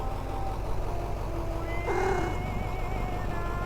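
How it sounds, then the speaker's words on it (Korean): A cat in the horror video game Night Bus lets out a single short meow midway, heard over a constant low engine-like drone. "고양이"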